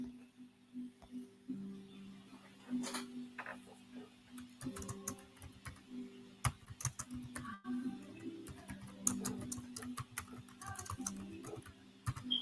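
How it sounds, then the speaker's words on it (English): Quiet, irregular clicking and tapping of fingers on a computer keyboard runs throughout, with small bursts of keystrokes, faint background hum and a few sharper clacks. "I'm just typing over here."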